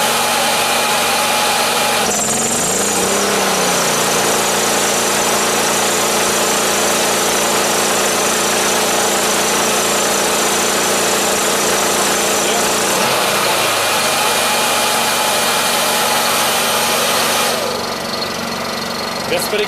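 A Honda EU2200i portable generator, converted to run on propane or natural gas, idles with a constant, close mid-pitched drone and a faint knock. Its steady running continues without pause throughout.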